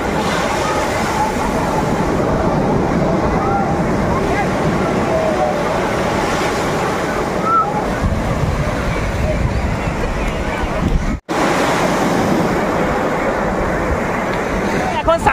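Sea waves roll in a constant dense wash at crowded Puri beach, the surf's roar blending with the murmur of many people, steady throughout apart from one momentary cutout.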